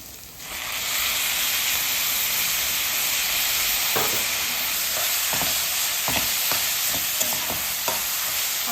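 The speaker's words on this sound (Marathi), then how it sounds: "आपण ही सर्व भाजी कमी तेलात परततो आहे मसाला" Onion, tomato and spice masala frying in a little oil, a steady close sizzle with repeated clicks and scrapes of a spoon stirring through the pan, no voices.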